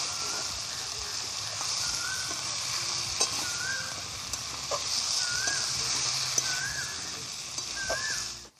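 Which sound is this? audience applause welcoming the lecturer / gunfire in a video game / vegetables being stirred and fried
vegetables being stirred and fried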